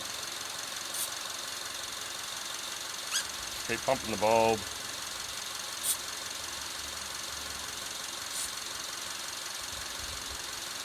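A Subaru engine idling during a cooling system combustion-gas test, a low steady running hum with faint knocking and occasional squeaks, while a person speaks briefly over it.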